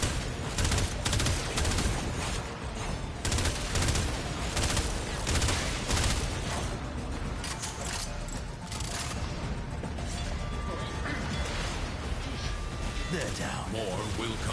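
A burst weapon fires repeatedly in the Warframe video game, with rapid clustered shots over dense game sound effects and voices throughout.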